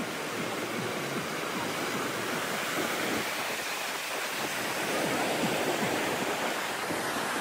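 Sea waves splashing at a beach in Goa, India, forming a loud, steady roar of surf that holds without pause or distinct breaks.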